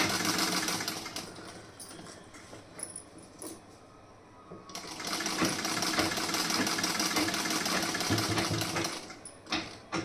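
A sewing machine stitches a seam joining a sleeve at the shoulder, running close and steady as a fast rattling whir with one brief slowdown midway.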